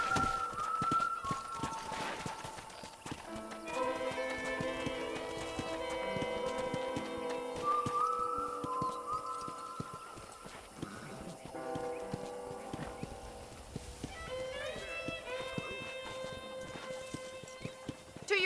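Horse hooves clip-clop at a gallop in the Red Dead Redemption video game, a steady rhythmic beat under a continuous musical score with occasional whinnies.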